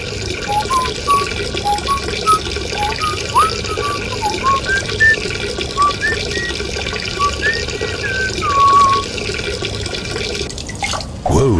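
Splashing and sloshing water as a character wades into cold, deep water in a video game, with bubbly dripping sounds over a steady background bed, ending in a sudden louder splash.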